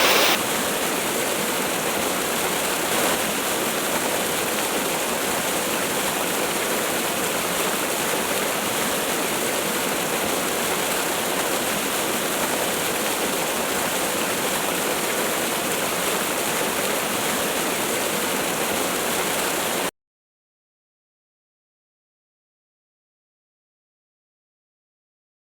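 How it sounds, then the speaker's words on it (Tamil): Waterfall in Namakkal rushing with force, a loud, constant broadband roar of falling water that runs for about twenty seconds and then cuts to silence. "அருவி இவ்வளோ வேகமாக வருது."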